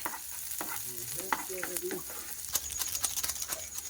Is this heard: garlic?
yes